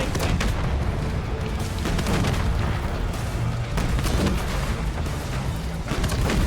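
Tank cannon and gunfire in Call of Duty: Black Ops 6 around a T-72 tank, a dense, continuous battle din of booms and blasts with no clear pauses, loud throughout.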